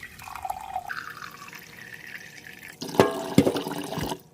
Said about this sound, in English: Now our hot water at its hottest temperature comes out about 107 degrees.